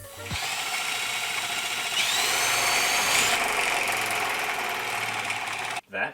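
Power drill boring and tapping holes into an aluminum flywheel pulley for a metal 3D-printed gas engine, a continuous loud high-pitched whine that shifts pitch partway through, then cuts off abruptly near the end.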